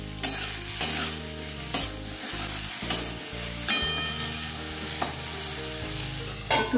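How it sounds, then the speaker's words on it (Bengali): Pieces of brinjal fry and sizzle in a pan while being stirred, with a steady hiss broken by repeated scraping strokes of a spatula every second or so, close and clear with no talk. "একটু নেড়ে নিয়ে এতে দিয়ে দিচ্ছি বেগুনের টুকরোগুলো।"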